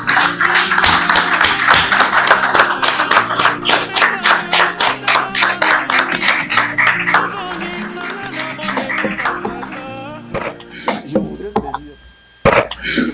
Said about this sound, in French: nous l'acclamons fort.